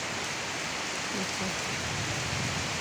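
Heavy rain from a Kalbaishakhi storm pours down in a dense, even hiss, loud and close, with a faint voice murmuring beneath the downpour.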